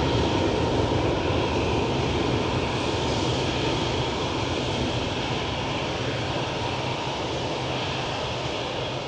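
Jet airliners roaring on takeoff at Lanzarote airport, a loud, continuous broadband engine rumble and hiss that holds steady throughout with no voices.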